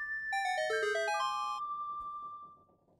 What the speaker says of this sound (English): Let's go ahead and play Zelda's Lullaby.